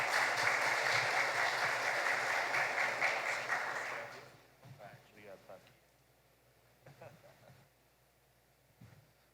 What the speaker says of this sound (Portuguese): Então vamos acolher o Davi com uma salva de palmas.